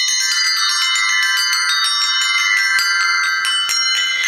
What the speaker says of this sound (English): they're called the round bells